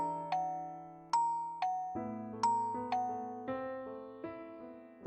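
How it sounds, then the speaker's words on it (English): A doorbell in a visual novel game rings out as a chiming melodic sequence of bright tones, each struck note decaying into the next over about five seconds, clear and alone. "suddenly I heard someone ringing the bell at the door"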